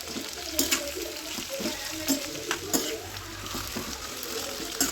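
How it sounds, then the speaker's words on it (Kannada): Onions, turmeric and garlic frying in a pan, a steady hissing sizzle with intermittent stirring clatters and scrapes, close and without talk. "ಇದೆಲ್ಲ ಫ್ರೈ ಆಗೋವರೆಗೂ ಸ್ವಲ್ಪ ವೇಟ್ ಮಾಡಬೇಕು."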